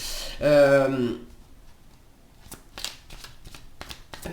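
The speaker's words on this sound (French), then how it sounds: "les cartes n'arrêtent pas de se retourner" Tarot cards are shuffled and flipped on a table, giving a short series of soft, crisp card snaps and riffles after a brief stretch of speech.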